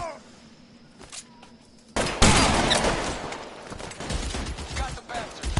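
A shootout in the video game L.A. Noire: after a quieter stretch with a few isolated shots, heavy overlapping gunfire erupts and keeps going in a dense, loud fusillade with sharp cracks and echoing bursts.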